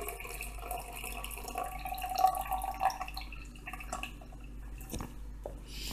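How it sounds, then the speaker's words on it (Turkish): Brewed banana tea is strained and poured into a glass, with a soft, trickling liquid stream and faint drips and clinks heard up close. "Muzumuzu demledikten sonra, öyle söyleyeyim, süzerek bardağımıza aktarıyoruz."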